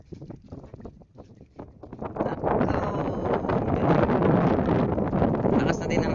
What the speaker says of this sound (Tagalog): Lakas na din ang hangin.